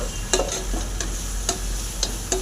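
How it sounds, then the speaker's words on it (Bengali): Ginger-garlic paste frying in a pan for an egg curry, a steady sizzle broken by about five sharp spatula scrapes at even intervals, close and alone with no talk. "আদা রসুন ভালো করে ভাজা ভাজা হয়ে গেছে,"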